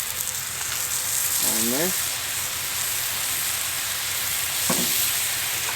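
Dove meat sizzles on a Blackstone flat-top grill, a steady close frying hiss that carries on under a voice.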